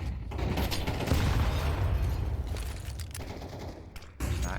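Pistol fire during a Counter-Strike match on the Ancient map, with a dense, continuous wash of loud gunshots and mechanical clatter and a brief drop near the end before the firing resumes.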